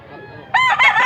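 A gamefowl rooster lets out a sudden loud, close crow after a quieter moment, the call rising and holding with a brief break in the middle.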